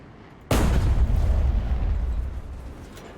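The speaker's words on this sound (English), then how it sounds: "Turret shots are great." A single heavy tank turret shot in a war video game: a sudden loud boom followed by a long rumbling decay that fades over a few seconds.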